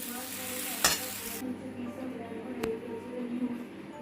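A spoon stirs banana flower curry in a pan after garam masala and ghee go in, giving a quiet sizzle and scraping. Two sharp metallic clinks stand out, and a faint voice murmurs beneath.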